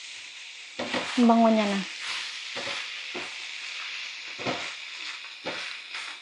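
Zucchini sautéing in a pan, a steady bright sizzle with repeated stirring scrapes, while someone speaks briefly over it.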